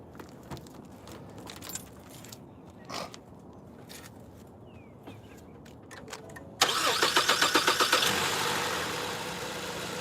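A car engine cranks with rapid repeated bursts, then catches and settles into a loud steady idle, heard up close after a spark plug change; quieter clicks and shuffling come before the cranking begins.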